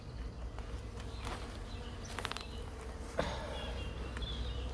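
Honeybees give a soft, steady buzz in the background of a nearly empty hive, with a few faint clicks and knocks, no talking.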